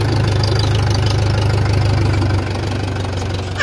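A Mahindra tractor engine idling nearby, with a loud, steady low rumble and rhythmic knocking that eases slightly toward the end.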